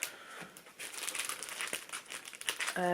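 Packets of scrapbooking stickers crinkle and rustle up close as they are handled, a busy plastic crackle that carries through the whole stretch and ends with a short buzzy tone.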